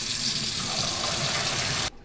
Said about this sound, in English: make sure to leave it run cold water on the sink